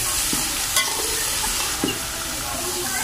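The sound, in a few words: vegetables frying on low flame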